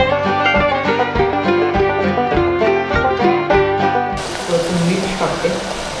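Chopped onion dropped into a hot pan for a homemade khichdi bursts into a loud, broad sizzle during the last two seconds, right after a stretch of background music.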